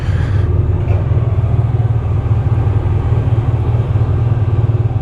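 2010 Honda VFR1200F DCT motorcycle riding at night, its engine a steady, close low rumble with wind noise, continuous and unbroken for several seconds with no talk.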